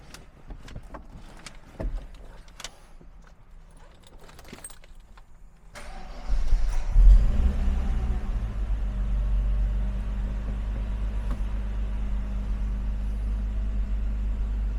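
A 1965 Mercedes-Benz 230SL Pagoda restomod, heard first with quiet clicks and handling noises, then the engine starting and settling into a steady, low, rumbling idle up close.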